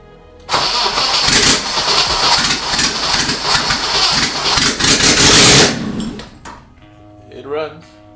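A turbocharged BMW E30 engine, not idling properly, cranks and catches, roaring loud and rough for about five seconds before cutting out abruptly; a voice speaks briefly afterward.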